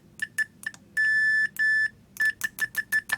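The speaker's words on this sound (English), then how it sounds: "And the continuity buzzer." A multimeter continuity buzzer beeping in an irregular pattern of short chirps and two longer sustained tones, close and clear, with no talking.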